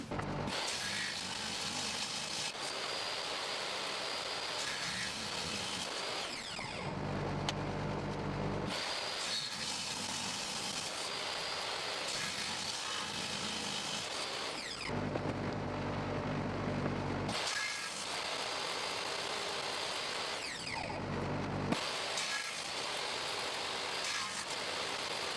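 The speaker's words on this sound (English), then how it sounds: "we're going to put them through the table saw in order to make them the final length and width" A table saw trims epoxy resin shelves to final length and width, its motor whining up for each long cut, running steady and loud through the pass, then dropping away between cuts, three passes in all.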